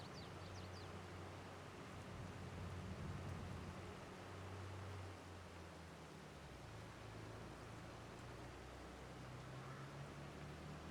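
Steady rain falling in Farming Simulator 22 on a wet, overcast day in the Ohio Richlands farm setting, a continuous broad hiss with a low rumble beneath and no talking.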